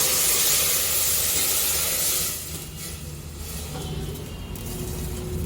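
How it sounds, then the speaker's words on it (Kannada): Hot water poured into a pressure cooker pot while making rice for chitranna, a steady loud hissing, splashing rush that drops off midway into quieter bubbling and trickling, with no talk. "ಬಿಸಿನೀರನ್ನ ಈ ಥರ ಹಾಕೋತಾ ಇದ್ದೀನಿ"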